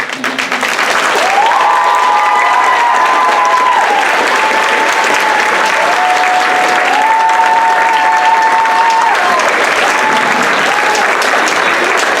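Loud, sustained applause from a gala audience at CSU Monterey Bay in Seaside, dense clapping that holds steady throughout, with a tonal sound drifting above it.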